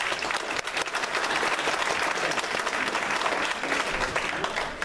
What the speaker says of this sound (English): So, a round of applause for Scott again,